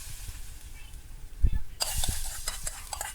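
Oil in a pan sizzles as mustard seeds and garlic are tossed in for a Sri Lankan tempering, quiet at first, then a sudden bright crackle and spatter with a few utensil clinks and soft scraping.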